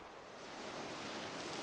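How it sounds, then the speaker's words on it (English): Ocean surf in the god game Reus, a steady broadband wash of waves rising slightly in loudness, continuous and alone with no speech. "Can we fill in this ocean?"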